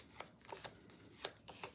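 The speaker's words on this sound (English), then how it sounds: "right now I'm just shuffling the cards" Tarot cards being shuffled by hand, a short run of soft, quiet, papery snaps and riffles spaced irregularly, close by and without speech.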